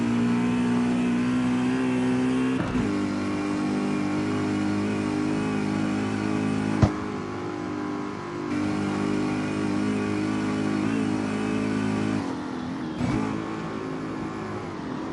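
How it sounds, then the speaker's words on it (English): BMW with straight-cut gears in the video game CarX Street, a sustained engine drone with a whining gear tone, revving through several gear changes with brief dips in between and no talk. "how can you not like the sound of a straight cut?"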